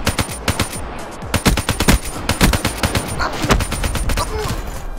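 Rapid automatic gunfire rattles in Call of Duty: Black Ops 3 multiplayer, loud, tight bursts of shots with brief gaps between volleys, close and punchy.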